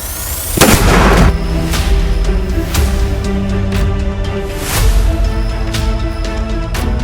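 Shotgun firing at skeet from the low house at station 7 outdoors, one loud booming blast followed by several more sharp reports at intervals with ringing tails.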